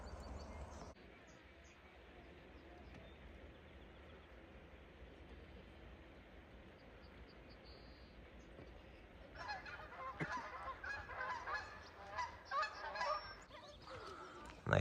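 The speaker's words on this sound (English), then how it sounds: "Lots of birds out this morning." Geese honking and other birds calling outdoors by a harbor with a long boardwalk, faint and distant over a low steady rumble of background noise at first, then clearer, more frequent honks toward the end.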